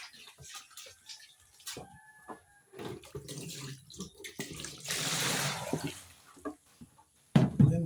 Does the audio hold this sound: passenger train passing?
no